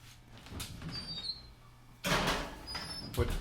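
An oven door swings open for a pizza to go in, giving a loud broad creak and thump partway through, with smaller clicks and rattles before and after in a quiet home kitchen.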